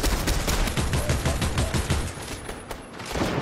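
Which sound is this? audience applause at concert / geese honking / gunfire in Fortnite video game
gunfire in Fortnite video game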